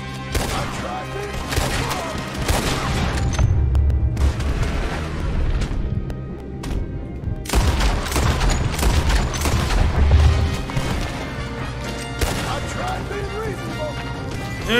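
Gunfire in the video game Red Dead Redemption 2, a dense run of loud booming shots and bursts that sounds almost continuous through most of the stretch, with a brief lull partway, mixed with game music and voices.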